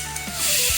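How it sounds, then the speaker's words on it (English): Water hisses from a spray bottle onto a previously sprayed popcorn ceiling, a short soft spray that swells and holds for under a second, close and alone. "And you're going to spray it and you'll see that it soaks in."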